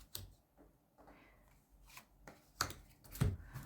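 Tarot cards being shuffled and handled, a few soft riffling and slapping bursts with brief quiet gaps, close and fairly faint, no talking.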